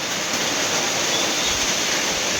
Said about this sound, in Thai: ฝนตกหนักน้ำสาดเข้ามาเลยอยู่คอกหมู